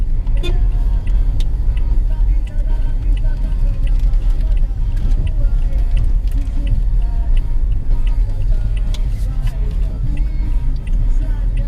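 Car cruising on a highway in the Philippines during All Saints Day travel, a steady loud low road and engine rumble throughout with faint ticking and some background voices.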